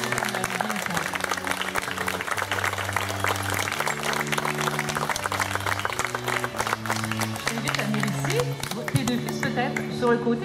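Wedding guests in Rosemère applaud the bridal procession, a steady dense wash of clapping sustained throughout, mixed with crowd noise and a loud melodic music line with sustained tones underneath.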